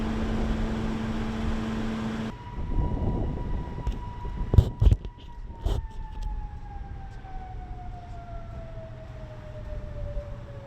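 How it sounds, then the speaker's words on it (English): Tornado warning sirens sound across town during a severe storm with a very large hail risk, a sustained wailing tone that slowly falls in pitch from a distance, while sharp thumps and clatter break out nearby partway through. "As a precaution, tornado sirens were sounded in town"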